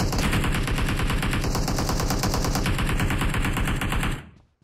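Continuous rapid automatic fire from an AKM assault rifle in PUBG Mobile, a dense, loud, steady stream of shots lasting about four seconds before cutting off abruptly.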